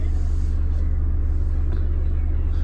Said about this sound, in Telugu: బటన్ ప్రెస్ చేస్తే వెహికల్ అయితే స్టార్ట్ అయిపోతుంది సార్